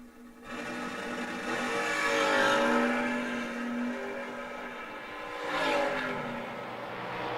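Drag race cars, a Chevy II and a second-generation Camaro, roar loudly at full throttle down the strip, engines swelling and fading with a second surge of revving, and no one talking.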